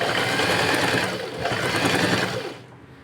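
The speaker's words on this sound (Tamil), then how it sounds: "இப்போ ஒரு ஸ்டிச் கொடுங்க" A sewing machine stitches churidar pant fabric in a loud, close, continuous whirring run that stops after about two and a half seconds.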